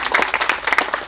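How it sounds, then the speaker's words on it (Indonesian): Brisk hand clapping from a small group at a silat martial arts demonstration in Rawa Belo, quick uneven claps close by, lasting about a second. "Ya, tepuk tangannya."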